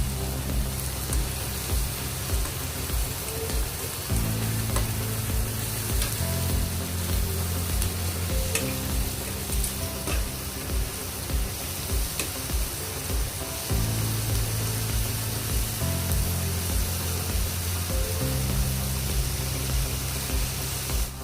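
Creamy mushroom chicken with cauliflower sizzles steadily in a pan as it is stirred, a continuous close frying hiss with a low background tone running throughout, no voices.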